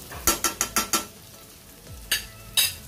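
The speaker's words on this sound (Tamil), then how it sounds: "இஞ்சி பூண்டு வெங்காயம், அந்த சிராய், கறிமசால் போட்டால், உருளைக்கிழங்கு எல்லாம் போட்டு நம்ம வதக்கிட்டு இருக்கோம்" Ginger, garlic, onion, potatoes and spices sautéing in a pan are stirred with a metal spoon, giving a quick run of five rhythmic scraping clacks, then two more spaced knocks over a low sizzle.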